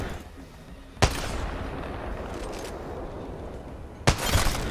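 Gunfire in the video game Apex Legends: two sharp, loud shots about three seconds apart over a steady background rumble, with no talking.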